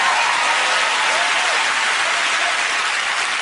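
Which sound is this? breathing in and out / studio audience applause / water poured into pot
studio audience applause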